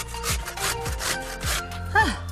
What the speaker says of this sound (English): So, give it a little grate.